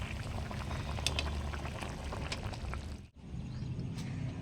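A thin hilsa fish curry with nigella seeds and eggplant bubbles steadily in a pot on a gas stove, a close, continuous simmering hiss that dips briefly to near silence before resuming.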